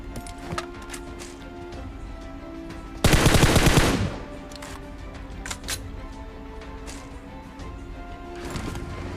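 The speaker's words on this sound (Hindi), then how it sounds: "कोचंगी से निकलने के बाद जैसे हम सामने की तरफ आते हैं तो हमें गन साउंड आते हैं।" Gunfire in the mobile battle-royale game PUBG Mobile: a loud, dense burst of automatic fire lasting about a second, with scattered fainter shots and game noise before and after.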